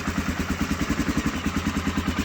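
A BMW F650 Funduro single-cylinder motorcycle fitted with a Staintune exhaust idles close by, a steady loping chug with regular uneven pulses and a faint mechanical clatter, heard alone.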